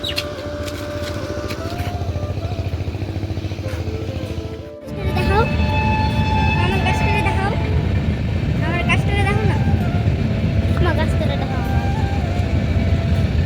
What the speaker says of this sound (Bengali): কত বড় ট্রেন রে শেষই হচ্ছে না